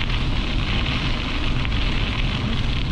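Steady, dense hiss of heavy rain pouring down during a strong thunderstorm on a bike ride, constant and loud throughout, with a low rumbling undertone.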